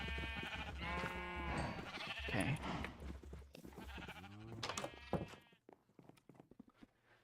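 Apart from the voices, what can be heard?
sheep bleating in Minecraft video game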